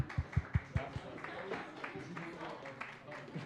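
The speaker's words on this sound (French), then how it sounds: "On peut l'applaudir." Audience clapping after a presentation at a Montreal biodiversity event: a few sharp, close claps at the start, then thinner scattered applause that fades out under a murmur of voices.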